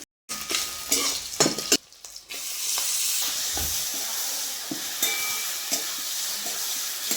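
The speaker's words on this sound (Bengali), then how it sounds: "এই যে মাছের তেলটা ভেজে নিচ্ছি" Fish fat fries in a pan, a loud continuous sizzling hiss that follows a few early clatters and stirring knocks.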